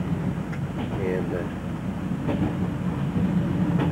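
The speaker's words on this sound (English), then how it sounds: "Beautiful train ride." Steady rumble and rattle inside a moving passenger train carriage on a 1991 rail journey in Germany and Austria near Innsbruck, with faint rhythmic track clicks and people talking over it.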